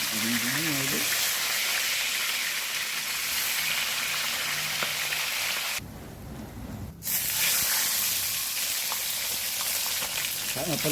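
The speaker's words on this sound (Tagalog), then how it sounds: "Salang ko na yung pan, bigyan ko ng oil para makapagprito na ng tilapia." Tilapia frying in oil in a pan, a continuous loud sizzle and hiss up close, with a brief dip partway through and faint voice-like tones underneath.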